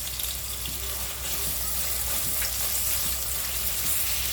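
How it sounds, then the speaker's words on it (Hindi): Onions softening in oil in a cooking pan give a steady, close sizzle and hiss that holds at an even level throughout, with no talk. "अभी हम प्याज डालेंगे इसके अंदर, और प्याज को नरम करेंगे, थोड़ा कलर बदली करेंगे"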